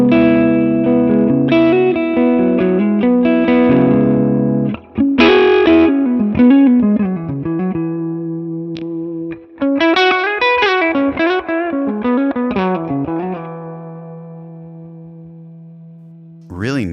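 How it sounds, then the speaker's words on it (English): Electric guitar played through an IK Multimedia MESA/BOOGIE amp simulation into a 212 California Tweed cabinet, loud and driven, moving from chunky chords into ringing melodic lines and sustained notes with a brief pause midway. "Let's move that to the 212 California Tweed cab now."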